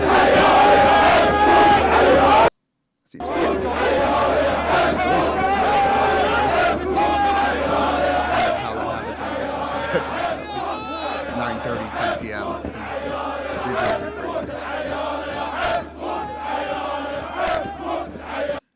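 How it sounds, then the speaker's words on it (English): Large crowd of Iraqi protesters in Baghdad cheering and chanting, a loud, dense roar of many voices that continues nearly nonstop with one short silent break early on. "are these guys cheering that the 3 U.S. soldiers were killed?"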